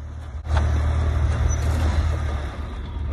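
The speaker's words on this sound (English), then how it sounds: "Watch Chris's truck." Chris's truck churns through soft sand with its engine running. A loud, steady engine drone sits close by and holds at an even level throughout, with a brief dip near the start.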